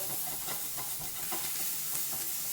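Japchae ingredients stir-fried in a dry pan without oil, giving a steady close sizzle and hiss with soft scraping strokes from stirring running throughout.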